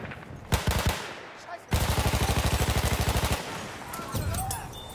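Machine gun fire in a combat scene: a long rapid burst of evenly spaced loud shots after a few earlier single cracks, close and dominant, with a faint voice nearby.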